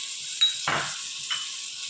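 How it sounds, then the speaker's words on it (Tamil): Chana dal being sautéed with chilli powder in a pan, giving brief bursts of sizzling and a scraping stir of a spoon against metal, close and short, with no talking. "கடலப்பருப்பை ஒரு வதக்கு வதக்கிட்டு தேவையான அளவு மிளகாத்தூள்"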